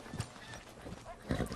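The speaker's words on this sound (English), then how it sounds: "Now my horse is following me." A horse follows the rider in the Red Dead Redemption 2 video game, its hooves clopping in a quick, fairly close rhythm over a short stretch, with a louder hoof thump near the end.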